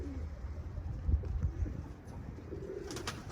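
Pigeons, birds arriving, coo low and soft several times amid a steady outdoor background murmur, with a few faint higher chirps near the end; no one speaks.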